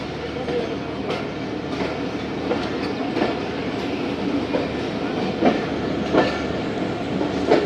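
A train pulls into Multan Cantt railway station on the Shalimar or Pakistan Express line, its steady rumble with faint rhythmic clicks of wheels over rail joints continuing throughout at moderate loudness.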